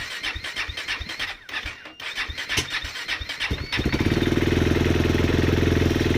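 A 2014 KTM 390 Duke motorcycle engine starts after squealing cranking attempts, then settles into a steady, close, rhythmic idle as it warms up.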